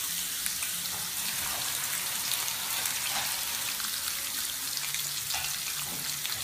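Steak fries in a hot pan with coconut oil and paprika, giving off a soft, continuous sizzling hiss with faint crackles and pops, quiet and unbroken.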